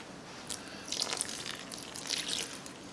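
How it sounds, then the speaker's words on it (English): Half a cup of water is poured into cinnamon roll dough in a bowl, giving a faint, brief splashing trickle in a few soft bursts. "Speaking of water, I'm going to add 1/2 cup of water."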